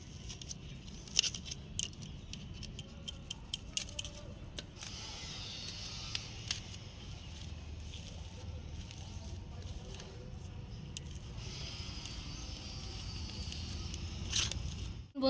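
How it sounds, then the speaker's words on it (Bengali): Boiled potatoes mashed with a hand masher in a kitchen, soft squishing and scraping strokes with irregular clicks and crackles, close and fairly quiet, no voices. "আমি কিন্তু আলুটা ম্যাশ করে নিয়েছি"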